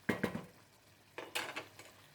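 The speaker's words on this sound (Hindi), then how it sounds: "ढक्कन इसका ढक देंगे" A metal lid goes onto a pot of chicken pulao: two quick light clinks, a short pause, then a brief clattering settle as the lid seats, all fairly soft.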